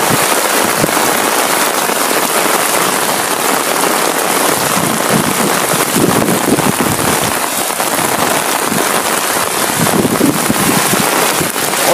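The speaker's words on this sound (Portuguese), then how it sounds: "Caraca, que chuva doida é essa?" Heavy rain pours down in Umuarama, Brazil, in a dense, steady roar with rushing water flowing toward a storm drain underneath, loud and continuous throughout, no voices.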